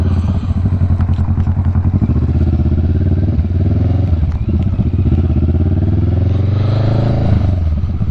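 Motorcycle engines rumble and rev close by at a bike show gathering where riders display their bikes, a continuous loud throb with shifting pitch and some clatter.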